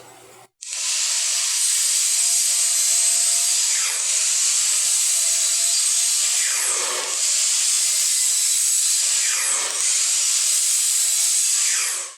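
A power saw in a woodshop runs steadily through scrap wood being trimmed to length for coasters, a loud sustained whine with a few dips as the blade bites, starting abruptly after a brief quiet moment.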